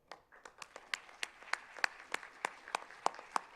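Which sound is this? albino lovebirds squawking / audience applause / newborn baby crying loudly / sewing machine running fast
audience applause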